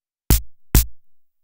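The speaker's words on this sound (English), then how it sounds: "so this is a dry snare hit" Two dry snare drum hits, about half a second apart, each a sharp crack that dies away quickly with no ringing tail, alone in silence.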